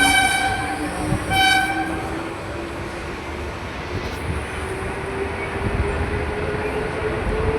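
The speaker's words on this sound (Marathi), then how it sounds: "ही जी पाठीमागे गाडी दिसते ना, ही जलद लोकल होती।" A Central Railway Mumbai local train rumbles past close by, with a loud horn blast near the start, then a steady rolling clatter and rising hum as the carriages go by.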